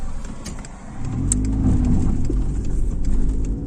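Car engine pulling onto a highway toward Lviv, a steady mid-pitched drone that swells and holds as the car gathers speed, with no talking.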